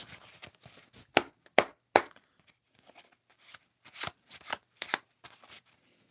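A handmade deck of oracle cards is shuffled close up, with crisp riffling bursts and sharp snaps landing in an irregular rhythm, quiet and unaccompanied by talk.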